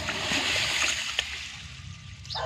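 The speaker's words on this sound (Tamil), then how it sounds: "இப்படி தண்ணி ஊற்றி கழுவுணுமா அந்த தூசு நச்சு எல்லாம் மிதக்கும்" Water poured over toor dal in a vessel to wash it, a close splashing, sloshing pour that runs for a couple of seconds and then eases into softer trickling, with no talking.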